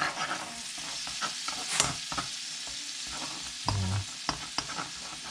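Butter sizzles in a pan for garlic butter shrimp, a constant close crackle broken by occasional utensil clicks and scrapes.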